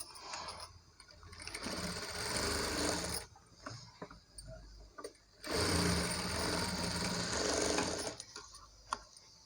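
A sewing machine joins the front and back pieces of a saree being made into a long frock, stitching in two sustained bursts with a pause between them, close and fairly loud.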